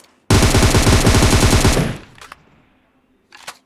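Loud, close automatic gunfire from the mobile battle-royale game PUBG Mobile: a dense rapid burst lasting about a second and a half, then a few faint scattered shots trailing off.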